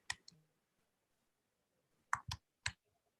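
Keys tapped on a computer keyboard: one quick pair of clicks, a pause of well over a second, then three crisp keystrokes close together, near and quiet in an otherwise silent room.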